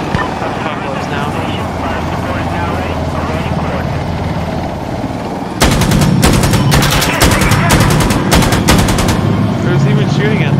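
Gunfire in the video game Insurgency Sandstorm, a steady helicopter drone at first, then rapid bursts of automatic fire crackling repeatedly over it in the second half, with players talking throughout.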